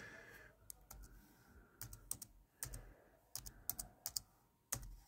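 Password being typed on a computer keyboard during a Home Assistant setup: irregular bursts of crisp key clicks with short pauses between groups, close and fairly quiet, with no talking.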